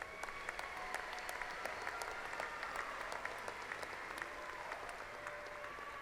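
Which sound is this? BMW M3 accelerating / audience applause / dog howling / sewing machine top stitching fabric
audience applause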